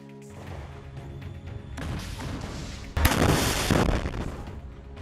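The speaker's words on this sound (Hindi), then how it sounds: "जैसे ही रॉकेट टैंक में लगता है वहां जोरदार धमाका होता है" A rocket strikes an Israeli Merkava tank in Rafah, Gaza, heard as a low rumble that builds, then a loud, sudden blast that roars for about two seconds before fading.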